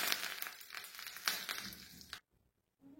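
Curry leaves, cumin and mustard seeds hit hot oil in a small tadka pan, a loud crackling sizzle with sharp pops that fades steadily, then cuts off into near silence before a faint sound returns.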